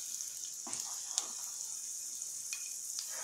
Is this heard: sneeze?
no